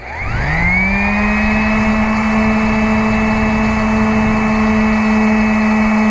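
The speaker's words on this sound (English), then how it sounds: "I'm just going to run the sander around this edge and try to clean that up there." Random orbital sander with a sanding disc working a wooden edge, whining up to a loud, steady high-pitched drone that holds to the end, with a brief spoken word at the start.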